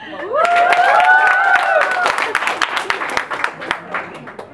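Live audience at a poetry performance breaks into loud applause with a few rising whoops or whistles near the start, then the clapping thins into scattered separate claps as it fades.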